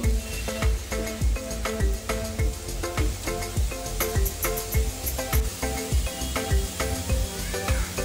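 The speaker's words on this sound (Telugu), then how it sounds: "ఇంకా కొంచెం మనం ఫ్రై చేద్దాం. మధ్య మధ్యలో మనం ఇలా కలపెడుతూ ఉండాలి" Potatoes fry for a curry with a steady hiss and sizzle while a utensil stirs and scrapes the pan in quick, regular knocks, heard close with no talking.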